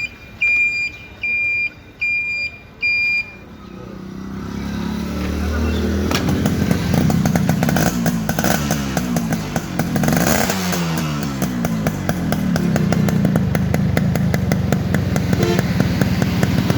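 A Yamaha RX 115 motorcycle's two-stroke engine idles loudly and steadily up close, its rough, rapid putter running for over ten seconds after a few electronic beeps at the start.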